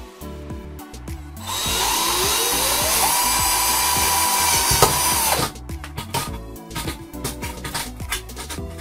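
Power drill boring a hole with a 5.5 mm bit for building a speed-controlled ball mill, a loud steady whine lasting about four seconds, with clattering handling and tool noises before and after.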